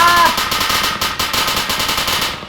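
Loud, continuous automatic gunfire from the video game Arma 3, in an Altis Life road chase. Rapid shots crackle in tight bursts that fill the whole stretch and fade slightly at the end.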